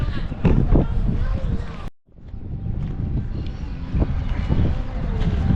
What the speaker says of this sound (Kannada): ಫುಲ್ಲು ಗಾಳಿ ಬೀಸ್ತಾ ಇದೆ